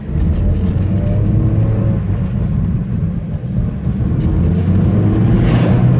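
A Mazda Miata engine rumbles low and steady, swelling as it accelerates, with road noise close by and no talking.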